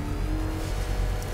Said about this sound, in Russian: Ну, естественно, тут у нас реверс двигателя.